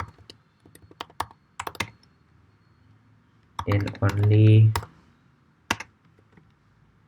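Typing on a computer keyboard while coding a Python number-guessing game, with short bursts of key clicks separated by pauses and a voice speaking briefly between them.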